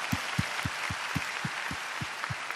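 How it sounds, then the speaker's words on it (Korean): Church congregation applauding together at the close of a Bible recitation contest, a broad wash of clapping with a steady, regular low thump running through it, sustained and even with no voices. "우리 하나님께 영광의 박수 올려드리고 마무리하겠습니다"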